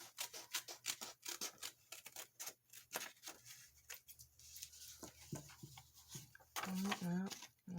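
Scissors snip paper for a mixed media art piece in a quick run of crisp close cuts, then a sparser, irregular stretch with some rustling. A voice talks softly during the cutting.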